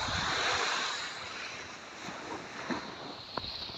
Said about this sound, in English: This is the beach at Gros, Islet in